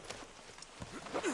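Horse hooves clip-clop in Red Dead Redemption 2, an uneven run of soft thuds up close, ending with a brief rising whinny-like squeal.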